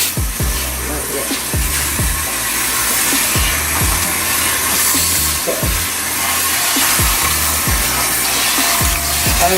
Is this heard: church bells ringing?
no